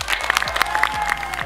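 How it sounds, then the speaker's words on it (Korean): Audience applause at a design graduation exhibition in an art hall at a Seoul arts school, with clapping and scattered crowd noise under a sustained tone across a short burst. "우리 모두를 위한 박수 한번 칠까?"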